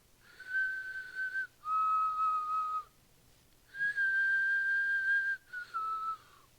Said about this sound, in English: that whistling is annoying